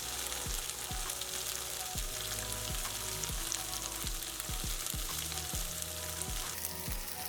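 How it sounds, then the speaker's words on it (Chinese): Tofu pan-frying in one to two tablespoons of oil over medium heat, a steady close sizzle with intermittent spatula taps and stirring thumps, no voices. "放入豆腐，放入1到2大匙的油，开中火，主要是把豆腐的水分逼出来，表面煎成金黄色。"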